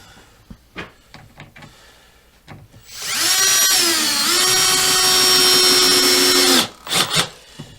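A power drill drives a screw into wood while an A-frame trestle is built, a loud steady whir lasting a few seconds with a slight pitch shift, framed by scattered knocks and handling clatter before and after.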